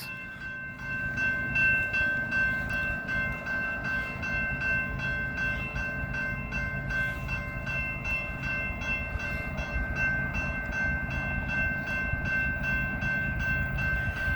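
A BNSF tanker freight train led by an ES44C4 and a Dash 9-44CW passes close at speed on the Brookfield Subdivision: a steady, loud rumble and clatter of wheels on rail, with a sustained bell-like tonal ring from the crossing, no talking.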